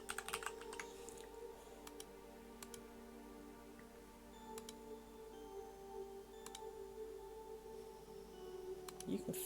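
Someone types on a computer keyboard during a live stream, with soft, fairly quiet key clicks in an irregular steady run over low background hum.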